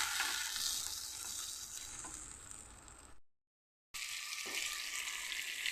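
Tomato, ginger and green chili paste frying in a pan for a fish curry, a loud continuous sizzle with scraping stirs, broken by a brief silent gap before resuming.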